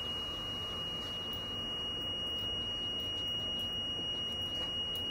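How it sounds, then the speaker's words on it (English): Steam machine that has run out of water gives off a thin, high electronic tone that holds steadily and faintly throughout, against a quiet background. "Steam machine is going to beep when it's no water"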